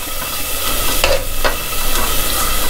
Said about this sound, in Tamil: இப்போது வெங்காயம் தக்காளி ரெண்டும் சேர்ந்து நல்லா வதங்கட்டும்.